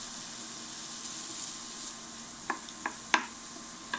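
Chopped shallots stirred in melted butter in a pan make a quiet, steady sizzle, with several sharp spoon scrapes and taps against the pan near the end.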